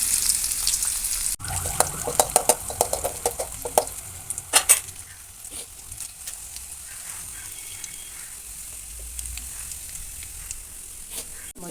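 Cumin seeds, curry leaves, ginger and garlic spatter and sizzle in hot oil for poori masala, with a steady hiss, sharp crackling pops and spoon stirring clicks, loudest early on and settling to a quieter fry.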